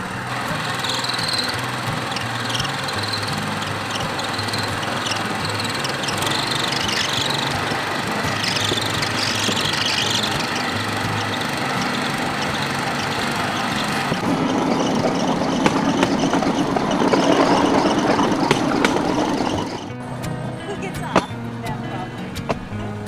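A small motor drones steadily with rattling and clattering over it, a motorised train cart rumbling along a single rail track in Cambodia, with a voice talking over much of it.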